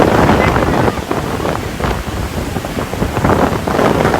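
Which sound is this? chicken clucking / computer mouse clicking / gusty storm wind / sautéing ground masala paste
gusty storm wind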